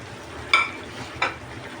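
Chicken liver sizzles steadily in a pan, with two short, sharp scrapes of a spoon stirring through the pieces over a low, constant frying hiss.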